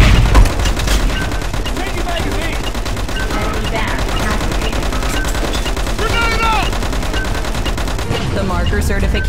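Rapid gunfire from the online shooter Metro Conflict crackles continuously and loudly, dense overlapping bursts with game voice lines and talk layered over it.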